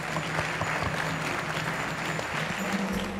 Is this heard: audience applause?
yes